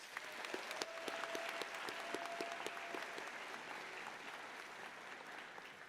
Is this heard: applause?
yes